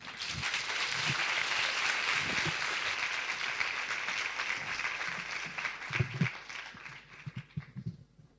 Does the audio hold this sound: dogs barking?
no